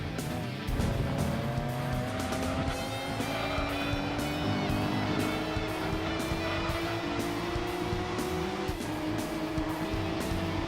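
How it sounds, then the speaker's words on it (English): A race car engine from the PS1 video game Gran Turismo 2 whines loudly and continuously, revving steadily upward through gear changes with a buzzy, synthetic tone and faint tire noise. "Is this engine sound realistic?"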